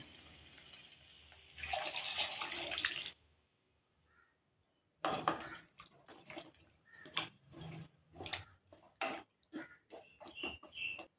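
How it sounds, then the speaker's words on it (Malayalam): Water poured into a pan of fried vegetables for sambar, a brief splashy pour followed by quieter bubbling and scattered clinks and pops, faint and close with no talking. "ഇനി ഇതിലേക്ക് 2 ഗ്ലാസ് വെള്ളം ഒഴിച്ചു കൊടുക്കാം."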